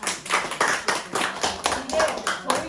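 A short burst of applause, several people clapping at a brisk, uneven rhythm, close by, during a village community resident education session.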